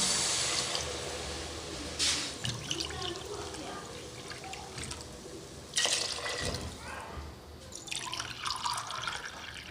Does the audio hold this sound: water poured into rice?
yes